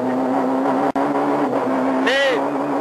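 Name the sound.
French Kit-Car rally car engine at full throttle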